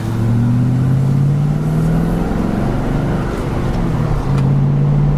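A 1997 Mustang Cobra drives around town, its engine holding a steady low drone with a slight rise and dip in pitch, loud and continuous with road noise over the whole stretch.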